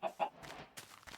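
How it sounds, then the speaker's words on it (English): Clucks from a chicken in a Minecraft-style video game come in two short, sharp bursts near the start, followed by softer scattered ambient noises. The sound is close and fairly quiet, with no speech. "Hi, chicken."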